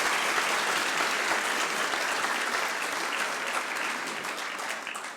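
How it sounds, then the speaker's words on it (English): An audience at a talk applauds steadily, a dense wash of clapping that holds strong for several seconds before easing slightly toward the end. "Can we give him a round of applause, please?"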